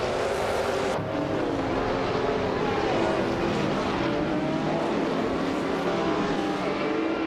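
Roaring engine of a 1981 Lancia Monte Carlo Turbo in a racing video game, a loud, continuous drone with shifting pitch as the car pushes through a competitive field, sounds of other cars mixed in, with no speech.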